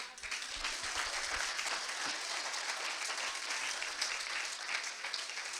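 A church congregation applauding the Lord during a sermon, a dense steady roar of many hands clapping at once, loud and unbroken from start to finish.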